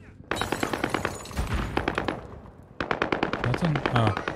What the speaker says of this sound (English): There's people shooting from tower.